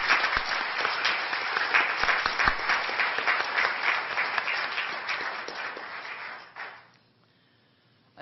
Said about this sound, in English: And one more round of applause and of appreciation for our General Counsel.